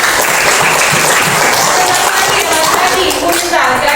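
Loud, dense applause from a seventh-grade class clapping together close by in a school classroom, sustained throughout with a few voices mixed in.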